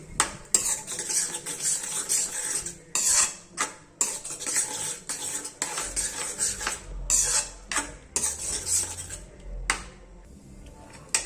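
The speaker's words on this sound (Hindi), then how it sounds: "इसे अच्छे तरीके से मिला लेंगे।" Repeated scraping and clattering of a spoon stirring mustard greens in a metal pan, in irregular bursts with short pauses, close up and fairly loud.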